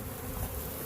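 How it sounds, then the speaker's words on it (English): Honey bees, about three pounds of them, buzz steadily as they march into a hive box, a close, continuous drone with no voices. "3 pounds, at least 3 pounds of bees in there"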